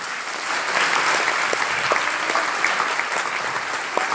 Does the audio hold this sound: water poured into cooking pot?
no